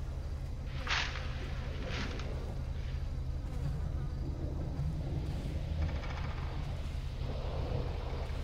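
Swarm of flies buzzing in a dark forest in GTA Online, a steady dense hum running throughout with a couple of sharper bursts near the start, no talking.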